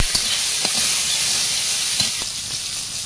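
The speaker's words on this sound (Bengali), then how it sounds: "শুকনো লঙ্কা দেবো তেলের মধ্যে, তেজপাতা, একটু সরষে, আমটা দেবো এর মধ্যে" Dried red chili, bay leaf, mustard seed and mango frying in hot oil, a steady close sizzle with a few soft stirring clicks and pops over about three seconds.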